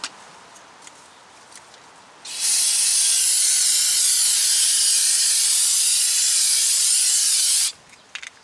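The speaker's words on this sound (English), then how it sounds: "Let's give the front end of this thing a good spray down." A steady, loud hiss of spray is aimed at the front end of a 2015 Honda Civic during brake pad and rotor work, lasting about five seconds between quieter pauses.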